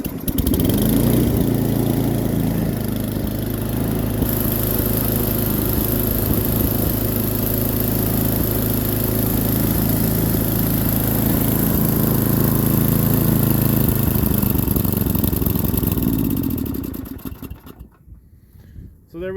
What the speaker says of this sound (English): It does run. It definitely needs a new China carburetor.